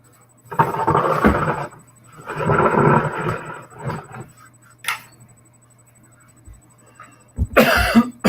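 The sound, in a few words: cough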